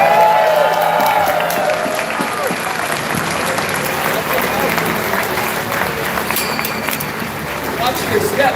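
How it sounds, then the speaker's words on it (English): Closing-ceremony audience applauding the Everfree staff, a loud, sustained wash of clapping and crowd noise with some cheering and voices mixed in throughout. "One more round of applause for our Everfree staff."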